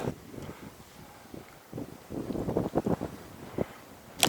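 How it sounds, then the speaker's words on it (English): Wind buffeting the microphone on a mountain ridge along the Alaska Highway in northern BC, irregular gusty rumbles and rustles that swell and fade, with a sharper burst at the end. "Hopefully the wind doesn't cause too much problems"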